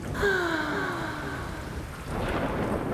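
Heavy rain falls at night as a soft, steady hiss, joined by low thunder-like rumbling and drawn-out sweeping tones that fade and swell over a few seconds.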